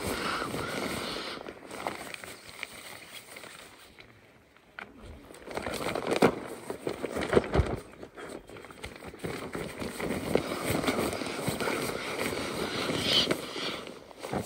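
A Klymit Double V sleeping pad is inflated with a pump sack, giving repeated fabric rustles and whooshes of air pushed in uneven strokes, close and moderately loud.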